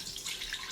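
Chicken broth poured from a cup back into a pot, a steady liquid splash and trickle, close and fairly quiet, with no talking over it.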